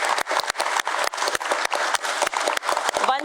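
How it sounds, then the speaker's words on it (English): Audience applause at a stock exchange listing ceremony for Tripura's first company, Ovalprojects Engineering Ltd, steady dense clapping filling the hall for a few seconds with sharp individual claps standing out. "Ladies and gentlemen, let's clap for this beautiful energy here."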